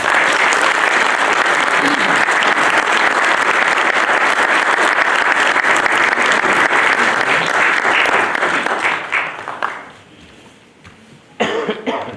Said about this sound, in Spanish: un aplauso anticipado para el autor